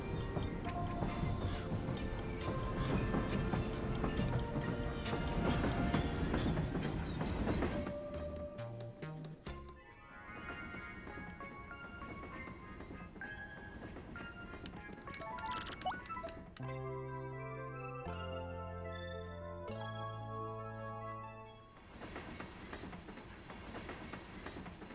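Train in Paper Mario: The Thousand-Year Door rolling along with rhythmic clattering and mechanical rumble, loud at first, then settling into quieter rolling sounds with musical tones layered over it.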